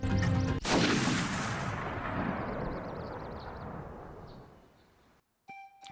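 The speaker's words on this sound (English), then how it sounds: "oh, and another gunfire" A loud gunshot-like blast in Kingdom Hearts II, sharp attack at the start followed by a long rumbling decay, then a brief silence and a short tonal chime at the end.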